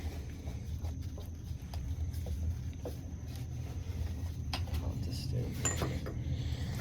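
A Milwaukee M18 transfer pump drains a neglected water heater tank, giving a steady, low motor drone with faint scattered clicks and clinks throughout, fairly quiet and with no one talking.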